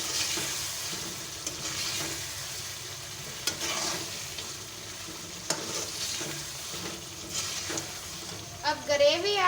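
Besan belay with green coriander and sliced chilies is stirred in a pan as it fries, giving a continuous soft sizzle broken by occasional sharp scrapes and clinks of the spoon.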